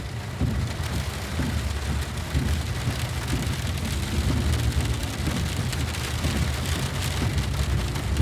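Heavy rain from a thunder and ice storm in Utah drums steadily on surfaces nearby, a dense continuous patter with low rumbling underneath and no voices.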